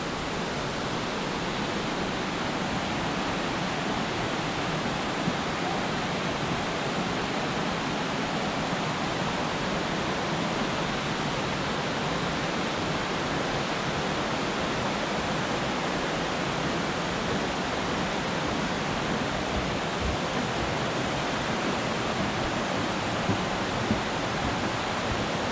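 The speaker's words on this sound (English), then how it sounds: "There's so much water coming over all this rock, it's kind of loud." Water rushes loudly over rock at a river mill at Watson Mill Bridge State Park in Comer, Georgia: a close, constant roar with no breaks and no voices.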